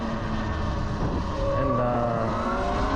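A Segway electric dirt bike roars up close, a whining tone climbing in pitch as it accelerates hard over a steady, loud rumble.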